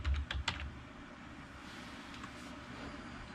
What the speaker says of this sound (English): And type in a password.